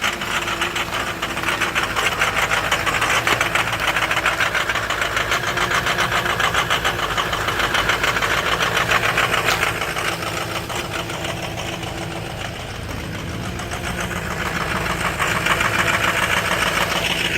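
A 2007 Ford F250 with the 6.0 diesel idling just after a cold start, a steady, loud, close rumble with a fast ticking clatter running through the whole stretch and no talk.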